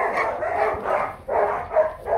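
A Rottweiler barks and yips in several short bursts of close, moderately loud vocalizing with brief gaps between them, and no speech over it.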